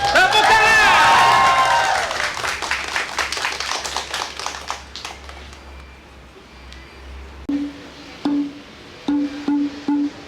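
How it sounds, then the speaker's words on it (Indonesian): An audience applauds for the Padepokan Krishna Wijaya dance troupe: a voice and cheering open into a burst of clapping that thins and fades, followed by a few scattered taps. "Tepuk tangan"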